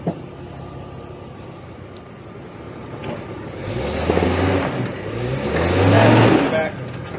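Jeep XJ Cherokee crawling off-road, its engine growling in surges that build louder toward the end, with tires scraping over rough ground and people talking nearby.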